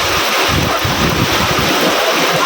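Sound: heavy rain

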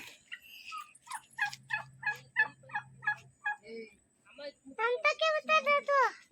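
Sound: turkey gobbling

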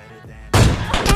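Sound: MK14 rifle gunfire in PUBG Mobile Lite video game

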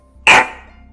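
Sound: dog bark

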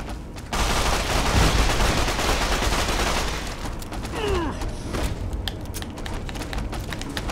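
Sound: gunfire in the video game Fallout: New Vegas

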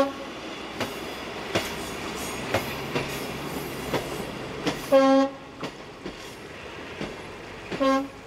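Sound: Class 811 diesel unit local train passing at Lipnik

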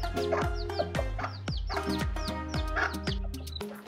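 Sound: hen clucking

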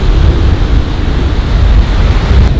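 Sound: strong wind and heavy waves at the beach

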